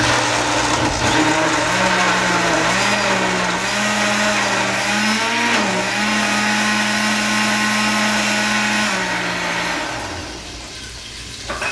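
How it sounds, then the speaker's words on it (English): A blender whirs loudly and steadily for several seconds while making a Peruvian-style sauce, its pitch wobbling as it churns, then winds down near the end. "Then you start the blender."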